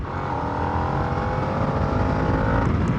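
A Harley-Davidson Nightster motorcycle engine pulling hard under throttle, a loud, steady, close exhaust roar with rising tone that fills the whole moment.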